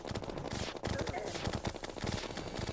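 Rapid gunfire from a weapon in the video game Terraria, with quick repeated shots in bursts over a busy, dense game soundscape.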